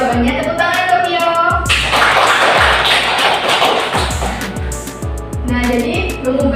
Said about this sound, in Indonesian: Tepuk tangan untuk Vio.